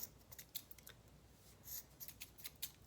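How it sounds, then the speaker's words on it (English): Quiet, close snips of scissors cutting through yarn loops, several short crisp clicks in an uneven rhythm with no talking. "we're going to take our scissors and we're going to cut through the loops on either side"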